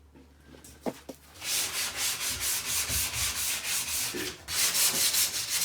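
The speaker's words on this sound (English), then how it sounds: "I'm just going to use a little light sand because when you put it in the saw, this laminate can become ever so sharp." Sandpaper lightly rubbing along the cut edge of a laminate kitchen worktop, with a couple of soft knocks and then steady back-and-forth scratchy strokes in an even rhythm, close and alone.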